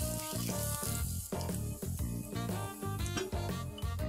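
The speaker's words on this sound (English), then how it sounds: "The oil has got hot, we'll add some bay leaves, about 2 bay leaves, and a tablespoon of finely chopped garlic." Two bay leaves and a tablespoon of finely chopped garlic sizzle in hot oil, a steady crackling hiss with scattered pops running unbroken and fairly close, with no talk.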